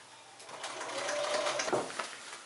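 A sewing machine stitches through the pleats of a lined hooded cloak, giving a steady, moderately loud mechanical whir that builds slightly and then eases off, with no speech.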